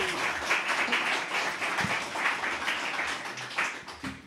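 An audience applauds steadily at a debate in Marieville, dense, even clapping from a crowd lasting several seconds with no talk over it.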